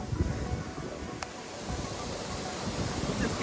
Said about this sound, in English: I'll just let you listen to the waterfall here